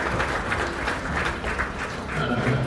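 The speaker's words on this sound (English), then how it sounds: "Let's give them a nice round of applause" Steady audience applause at a county fair beef show, a dense, even wash of many hands clapping throughout.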